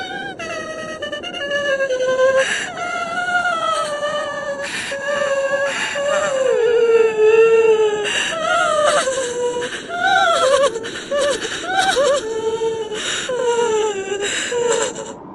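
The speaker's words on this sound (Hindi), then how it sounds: "वो आवाज ऐसी थी जैसे हजारों औरतों के रोने की आवाज हो" Long, mournful wailing cries rise and fall continuously, sounding like sobbing women, loud and close, with no talking.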